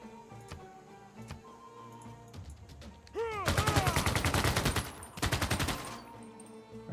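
Siege bombardment of city walls in Civilization VI, a battle sequence with scattered clicks and a sweeping whoosh, then bursts of rapid, loud crackling gunfire-like impacts in two volleys, close and without talk.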